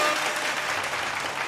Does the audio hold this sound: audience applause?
yes